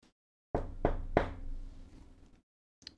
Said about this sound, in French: Elles frappent à la porte.